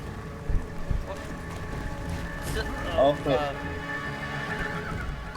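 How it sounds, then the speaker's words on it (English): A horse whinnies in Castlevania: Lords of Shadow, a mid-level neigh rising over game music and ambience, with brief hoof sounds, while someone talks over the scene. "Here come the horse again."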